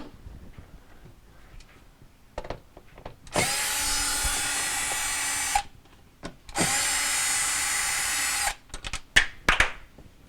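A small power driver runs in two sustained whirring bursts to remove screws from the light covers inside a Samsung refrigerator, RS263TDBPXAA, with light clicks and handling noises before and after.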